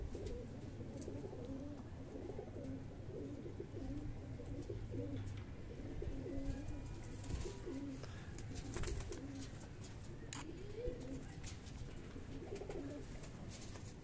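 Highflyer breeder pigeons cooing steadily in a loft, a continuous layered chorus of low rolling coos from several birds close by, with faint chirps above and no talk.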